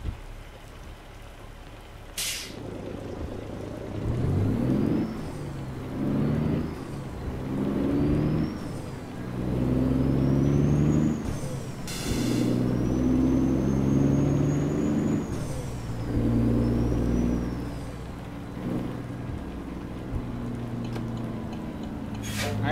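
A Cat C15 diesel rated at 550 horsepower with an 18-speed transmission pulls a truck in American Truck Simulator, its engine rumbling and revving through repeated gear changes, with rain and air-brake hisses around it.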